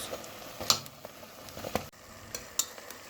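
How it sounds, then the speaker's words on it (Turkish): Soft sizzling of Hanım göbeği dessert dough frying in oil over medium heat, with occasional light clinks and taps of a utensil, fairly quiet and close, no talking. "soğuk yağımızı alıyoruz ve orta ateşte güzel bir şekilde kızartıyoruz"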